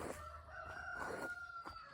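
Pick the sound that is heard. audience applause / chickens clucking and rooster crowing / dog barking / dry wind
chickens clucking and rooster crowing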